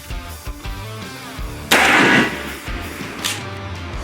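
A shotgun fires a single 3.5-inch magnum shell while turkey hunting, heard as one loud, sharp close blast that decays over roughly a second, over a low background rumble with no voices.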